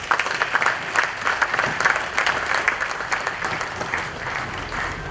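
Applause from a Rotary Club conference audience, a full room clapping steadily with slight rises and dips in loudness, continuing for about five seconds with no speech over it.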